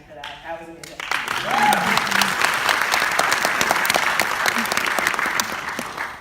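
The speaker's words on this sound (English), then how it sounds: "I just have to clap again for that." Audience applause for a Georgetown University speaker, bursting in after a brief spoken phrase and holding as steady, dense clapping from a sizable crowd close by.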